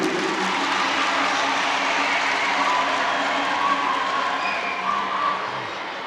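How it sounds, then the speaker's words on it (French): Audience applause at a spelling contest in Bamako, a dense sustained clapping from a large crowd filling the room, steady throughout before easing slightly at the end. "Applaudissez pour vous."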